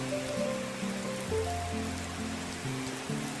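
Steady rain falls on a farm planted with papaya, a soft continuous hiss up close, with faint low tonal sounds running underneath.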